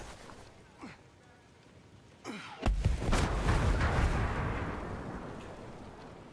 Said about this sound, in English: Well, we survived that explosion,